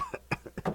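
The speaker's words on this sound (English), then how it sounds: "I coughed something." A short burst of four or five quick, dry coughs in rapid succession, close and fairly quiet, with no speech.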